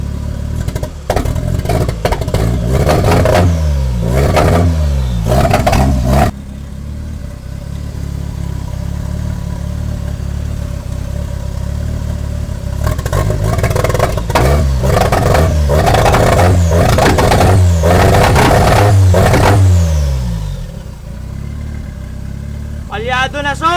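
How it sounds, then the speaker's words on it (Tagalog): A 1989 Toyota Corolla small-body engine with an electrical fault revs in loud bursts, sputtering and misfiring with sharp popping backfires between a steadier idle, close and prominent. "Nagba-backfire."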